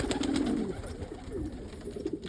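Pigeons of fancy breeds such as Andalusians and Indian fantails coo softly in a repeated low rolling call, close by, with no talk over it.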